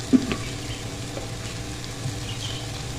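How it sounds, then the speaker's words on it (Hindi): A tablespoon of oil sizzles steadily in a pan for omelette bun paratha, a continuous low frying hiss held at an even level throughout, with one small tap near the start. "अब हम सेंटर में एक होल बनाएंगे और इसमें डालेंगे 1 टेबलस्पून ऑयल"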